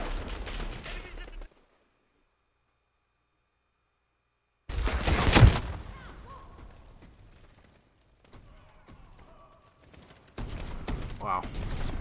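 Gunfire in Call of Duty Modern Warfare as Price shoots during the Into The Furnace mission: one loud, sharp blast rings out and decays over about a second, framed by stretches of rumbling game noise and a few seconds of dead silence.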